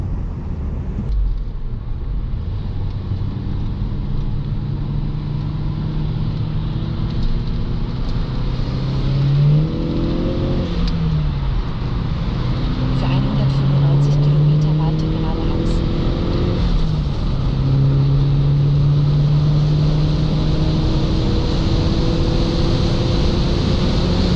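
A Saab 9-3 Aero Cabriolet with 280 hp and 400 Nm accelerates hard from 100 to 200 km/h, heard from inside as a rising engine drone with gear changes, under a voice talking.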